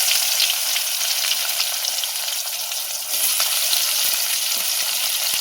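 Chopped onion fries in hot oil with two bay leaves, a steady, dense, close sizzle that holds unbroken throughout with faint scraping ticks underneath.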